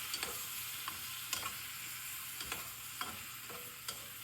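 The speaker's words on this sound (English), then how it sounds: "we've got those sauteed in a good olive oil. And we're going to add the peaches into this now." Soft frying sizzle of onions and peaches sautéing in olive oil in a pan, with a few light clinks and scrapes of a spoon stirring, no voices.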